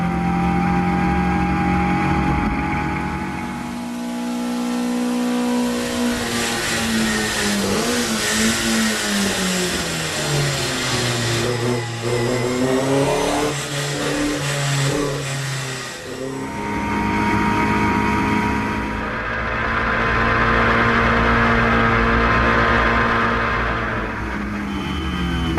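Clubmans Sports Prototype race cars scream past during a race at the Anglesey circuit, engines rising and falling in pitch as they approach and recede, loud and continuous with no talk.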